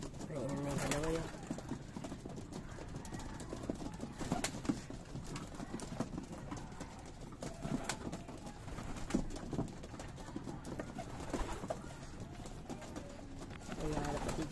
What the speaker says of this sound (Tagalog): So yan yung mga ibon natin mga kalapatids.